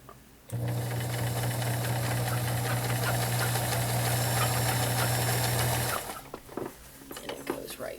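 A vintage 1970s Kenmore model 1914 convertible sewing machine with a size 16 needle drives steadily through five layers of denim, a loud, close mechanical whir lasting about five seconds before stopping, then faint handling.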